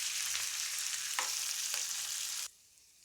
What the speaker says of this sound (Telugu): గుప్పుడు పుట్నాల పప్పు, కొంచెం కరివేపాకు, కొంచెం కొత్తిమీర వేసేసుకొని వీటన్నింటినీ బాగా ఫ్రై చేసుకోవాలి